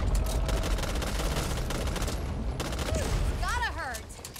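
Rapid bursts of gunfire rattle through a video game match, dense repeated shots under brief electronic chirps and tones near the end, with a player talking.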